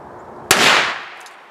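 A live ammunition primer, left soaked in water to test deactivation, goes off in a single sharp, loud bang with a brief hissing decay and no talk.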